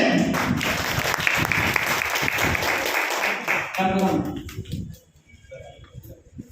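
Audience applause at a World Cancer Day event, a dense wash of clapping that fills the first five seconds and then drops away, with voices mixed in underneath.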